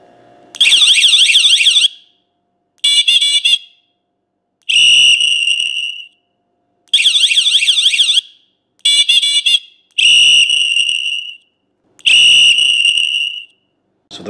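Rechargeable T-002 120dB electric bicycle horn cycling through its test tones: loud shrill warbling siren bursts and steady piercing beeps, several separate blasts with short silences between, close and alone.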